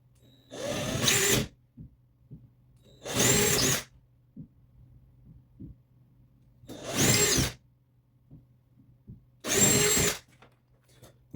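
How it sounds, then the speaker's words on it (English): A power drill bores small holes in a metal bracket while fitting a spindle kit to a Shapeoko Pro XXL CNC, with four separate whirring bursts of about a second each against a low steady hum. "Now we're gonna drill these holes."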